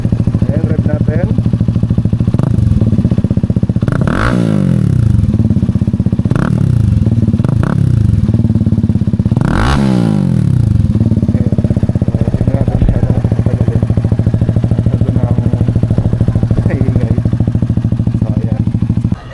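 A CFMoto 250SR motorcycle with a double resonator exhaust idles with a deep, steady bassy rumble, punctuated by several sharp throttle blips that rise and fall, loud and close throughout.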